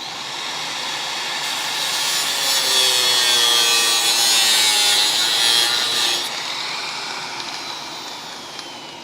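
Rusted metal being cut out of an old Dodge Charger crew-cab body near the pinch weld, a loud continuous grinding, rasping cut that builds and holds steady for several seconds, then eases off, with no talking.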